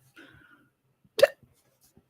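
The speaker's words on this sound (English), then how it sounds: "Excuse me, I got hiccups." A single sharp hiccup from an adult woman, loud and close, following faint murmuring at the start and then trailing into near silence.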